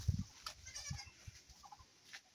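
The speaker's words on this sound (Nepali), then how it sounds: "बाख्राहरू" Goats bleat on a small organic farm in the countryside, a few short faint calls scattered over low rustling background noise, with no talk.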